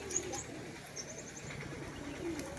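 Andhra pigeons coo faintly in a low, murmuring flutter, with scattered light chirps and no one talking.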